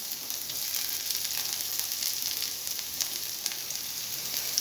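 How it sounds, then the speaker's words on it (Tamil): Finely chopped garlic and ginger sizzle in hot oil for an Indian gooseberry (amla) pickle, a dense, even hiss that holds steady throughout, close and fairly loud. "அப்புறம் வெள்ளைப்பூடு சின்ன சின்னதாக நறுக்கினதையும் போட்டுக்கோங்க."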